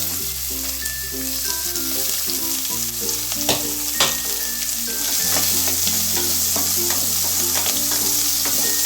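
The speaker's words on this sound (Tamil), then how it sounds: "ஃபஸ்ட்டு வெங்காயம் போட்டுடலாங்க." Sliced onions sizzle and fry in hot oil with whole spices for a vegetable kurma cooked in a pressure cooker, with a constant loud crackle and intermittent scrapes and clinks of a spoon stirring the pan; no voices.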